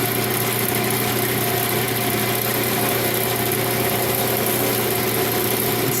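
A wood lathe spinning loudly and steadily as a tool cuts a magic wand blank, a continuous even motor drone with no breaks or voices.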